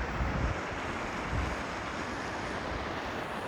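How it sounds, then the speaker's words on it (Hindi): A mountain waterfall stream fed by melting snow on the trek to Haramosh Valley rushes steadily as a dense, continuous roar of falling water, near and unbroken. "अभी ये देखें, यहाँ से भी झरना"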